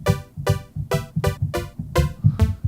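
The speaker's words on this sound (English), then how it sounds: "So I'm getting my attack from this sawtooth." A detuned sawtooth synth attack layer built with stock REAPER plugins plays seven bright, sharp-onset notes in a steady rhythm over a low repeating bass pattern, loud and close with no talking.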